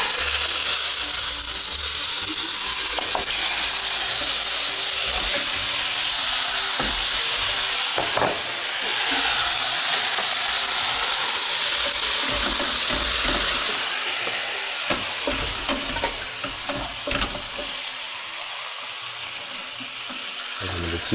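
Spicy bean paste stir-fried in a pan for a kung pao chicken filling, a continuous close sizzle and steamy hiss broken by scraping stirs that ease off toward the end.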